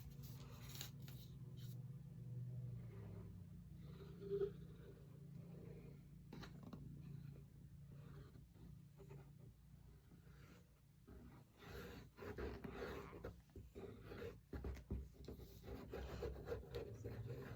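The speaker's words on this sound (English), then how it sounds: "I'm just gonna give this a good burnishing down." Paper being burnished down by hand on a Halloween book stack craft, giving a continuous soft rubbing and scraping with irregular strokes, faint and close, with no talking.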